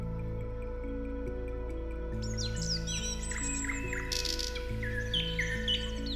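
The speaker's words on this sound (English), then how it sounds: "Overhead, the skies form a vibrant corridor for thousands of migratory birds" Migratory birds in Iran chirp and tweet in quick bright bursts that start partway through, layered over a steady, low sustained music bed.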